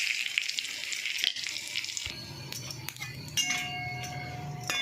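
Asafoetida, mustard seeds, dried chilli and cumin hit hot oil, giving a bright, crackling sizzle that shifts to a steadier fry with scattered pops and clinks midway.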